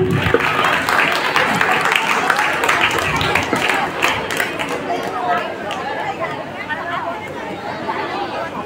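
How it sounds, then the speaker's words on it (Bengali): A crowd at a school Teacher's Day function claps after an opening song, a dense burst of hand clapping that gradually thins into chatter and murmuring voices. "হাততালি দাও, হাততালি।"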